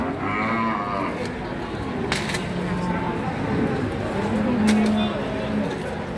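Cattle moo at a busy cattle market in Jatirogo, several low drawn-out calls rising over a steady background of crowd chatter and people talking nearby.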